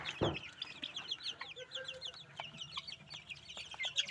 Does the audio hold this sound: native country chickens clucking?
yes